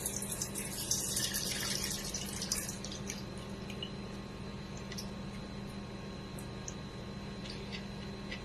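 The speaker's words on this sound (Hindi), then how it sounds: "चने दाल का सारा पानी निकाल देंगे।" Water drains off soaked chana dal in a kitchen, a soft splashing pour at first that thins into faint trickles and scattered drips, quiet and close.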